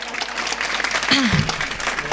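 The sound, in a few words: audience applause at kirtan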